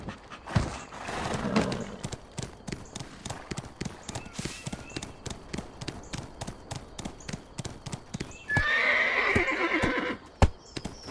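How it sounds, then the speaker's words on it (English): A wild horse in the Black Desert video game gives a loud neigh near the start and another near the end, with crisp, steady clip-clop hoofbeats running between them. "Wild horses can be tamed with a capturing ring."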